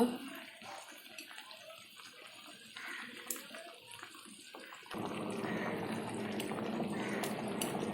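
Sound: water poured into pot with hilsa fish and pumpkin

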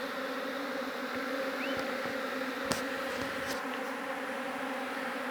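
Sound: honeybees buzzing around feeder

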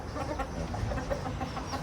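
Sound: chickens clucking at a farm at night

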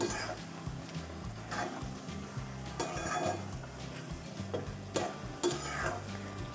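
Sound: stirring bottle gourd curry with coriander in a pan

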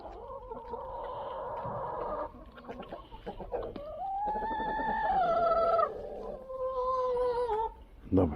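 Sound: chickens clucking while being moved to the quail pen

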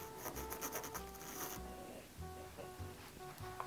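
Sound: drawing a quarter inch line with a pen

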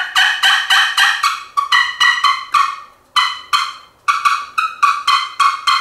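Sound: wild turkey call imitating an excited lost young turkey

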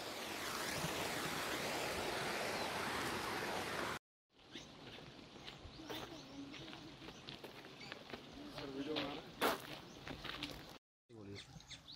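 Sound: waterfall flowing beside hill trail

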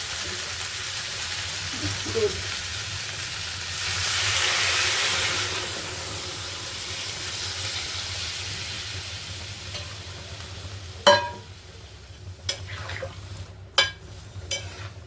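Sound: milk added to sizzling fried spices and stirred

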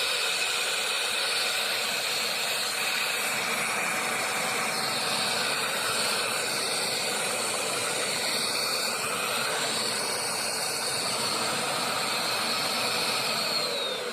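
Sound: Fantom vacuum cleaner running

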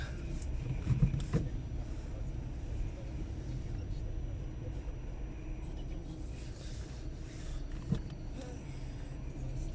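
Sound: car driving on a rainy afternoon in Wrocław

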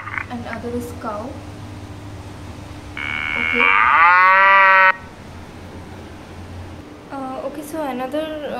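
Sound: cow mooing in an AR app

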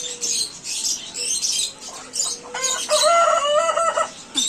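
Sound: chicken clucking and crowing

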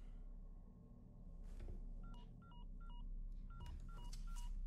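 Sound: telephone dialing in video game Resident Evil 4 Remake

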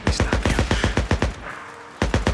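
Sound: gunshots in the video game Days Gone

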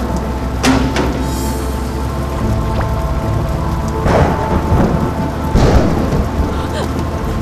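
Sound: thunderstorm with heavy rain

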